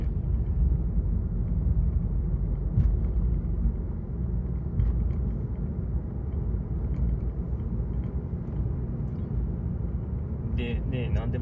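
Mazda2 driving along a road after Golden Week, with a steady engine and road rumble throughout and a brief clatter near the end.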